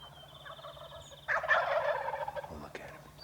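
A wild turkey on the roost at dawn lets out a loud, rattling gobble that erupts after softer birdsong, fading in trailing bursts against quiet woodland.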